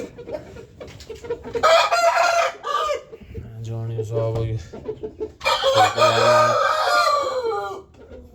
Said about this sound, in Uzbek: Xo'rozlar baqilib yotibdi.